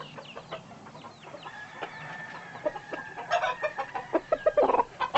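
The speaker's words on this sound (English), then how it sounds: "Mighty pretty bird, Mr. Frank." A rooster clucks and calls close by over a steady rural background, with chicken noises building and growing louder toward the end.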